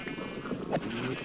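Sheep bleating in the video game Minecraft, a short wavering bleat in the middle of a soft backdrop of game ambience, heard fairly close with no talk over it.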